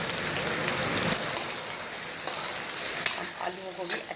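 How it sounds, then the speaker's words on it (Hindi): Potatoes frying with onions and spices in a pan, a steady crackling sizzle with a few louder stirring scrapes and pops close by. "हम आलूओं को भी अच्छे से भून लेते हैं"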